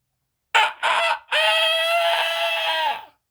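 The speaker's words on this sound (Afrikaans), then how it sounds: "Maak daai hoenderhaan en die hennetjies word wakker, jy hoor sommer." A rooster crows loudly and close by: two short clipped opening notes, then one long drawn-out call that fades out, with the rest quiet.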